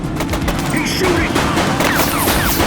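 A suspect fires rapid bursts of gunfire in The Precinct, a 2024 police video game, with the shots rattling loudly and continuously amid other game sounds.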